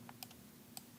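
Numbers keyed in on a computer keyboard or calculator while working out a genetics calculation: a few faint, isolated clicky key taps close by, with no talk.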